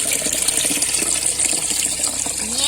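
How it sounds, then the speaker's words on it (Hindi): Water leaking out the side of a gate on an irrigation channel feeding an unlined earthen field ditch: a steady, close rushing gush with no break. "ये देखिए यहाँ से पानी लीक हो रहा है।"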